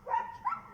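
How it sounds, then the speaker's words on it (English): A dog gives one or two short barks close by, a brief tonal yelp followed by a second shorter bark, with no talk over it. "Stop barking, please."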